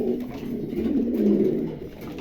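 Low, throaty cooing of pigeons at a pigeon market, a steady rolling murmur close by with several birds overlapping.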